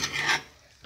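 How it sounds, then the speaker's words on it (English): A utensil scrapes and rubs through breakfast food mixed with ketchup in two quick rasping strokes, close and fairly quiet, with a brief pause before a final scrape. "So I'm just going to mix the ketchup with everything."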